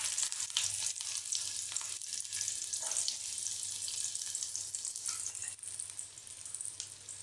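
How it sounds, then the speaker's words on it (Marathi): Onion frying in a spoonful of oil in a hot kadhai for tomato, carrot and beet soup, a steady close sizzle with occasional stirring scrapes, no talk over it. "कांदा आपला भाजून घ्यायचा चांगला."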